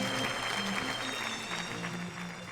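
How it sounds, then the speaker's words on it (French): Dense audience applause fills a French evening event with Sylvie Tellier. The clapping is sustained and even, with background music tones running underneath. "j'aimerais qu'on les applaudisse ce soir"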